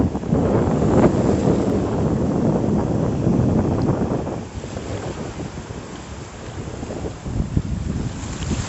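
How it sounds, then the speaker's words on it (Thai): Strong surf rolls onto the shore at Cha-am beach, a steady broadband roar mixed with wind buffeting the microphone, loudest in the first half and easing slightly later, with no voices. "คลื่นแรง"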